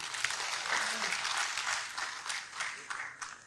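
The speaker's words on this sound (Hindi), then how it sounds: "अगर आप मेरे से सहमत हैं तो ताली बजा सकते हैं।" Audience at a Hindi poetry recital in Patna applauding, a dense burst of clapping that thins into scattered individual claps toward the end.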